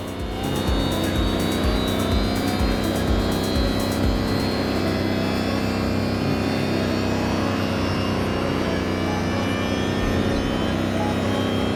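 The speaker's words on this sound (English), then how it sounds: "there's no problem going all out with that Lambo" A Lamborghini races hard in The Crew Motorfest, its engine roaring loud and sustained at high revs, with rhythmic pulsing early on and no talk over it.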